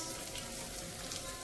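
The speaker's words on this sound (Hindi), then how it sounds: "तड़का रेडी है, उसमें जाएंगे अनियंस।" Onions hit hot tadka oil for a home-style lauki dal, giving a dense, even sizzle and crackle up close with no voice over it.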